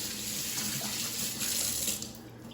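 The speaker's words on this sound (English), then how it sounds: "let's wash our hands real quick." A kitchen tap runs steadily into a sink while hands are washed before making sausage rolls, a continuous close splashing hiss with no talk.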